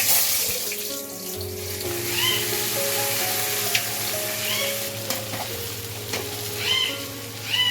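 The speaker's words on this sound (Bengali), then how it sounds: "এই অবস্থায় আমি সমস্ত কর্নটাকে" Cornflour-coated corn kernels frying in hot oil give a continuous bright sizzle with a few stirring sounds, heard under melodic background music.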